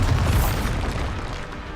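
A Bombarda blasting spell explodes in Hogwarts Legacy, a loud booming blast with a low rumble that decays steadily over about two seconds.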